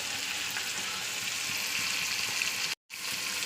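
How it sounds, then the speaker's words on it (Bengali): Fish frying in a pan, a dense continuous hiss of hot oil heard close up, broken by a brief moment of silence near the end. "দুটো মাছ ভাজা হয়ে গেছে আর দুটো মাছ দিয়েছি"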